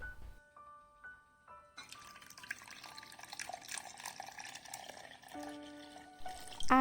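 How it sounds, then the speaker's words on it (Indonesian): Liquid milk poured into a chocolate pudding mixture, a steady broadband splash that starts near two seconds and runs on, fairly close and with no speech over it. "Tambahkan susu cair"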